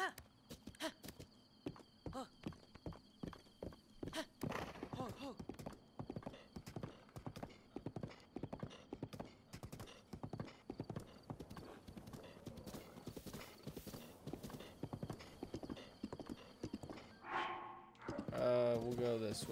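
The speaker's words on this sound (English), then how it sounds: "I'm on a horse." Horse hooves clip-clop in a steady, rapid galloping rhythm in Breath of the Wild, loud and close, ending with a neigh. Someone speaks over it now and then.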